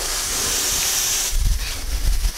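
Steam hisses from a hot pot steaming tofu, a steady airy rush that carries on, joined partway through by louder rumbling bursts as the pot bubbles.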